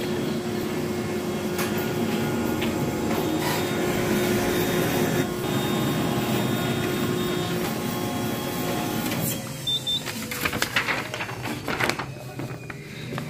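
A Canon iR 3320 photocopier making a copy, with a loud steady mechanical whir and motor hum that continues for several seconds, then gives way to clicks and rattles as the page feeds out, close by.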